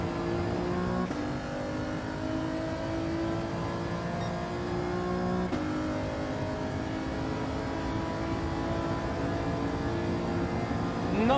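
Alfa Romeo race car lapping a track in Gran Turismo 7, its engine droning steadily and loud throughout with rising and falling pitch as it accelerates and shifts gears, no talking.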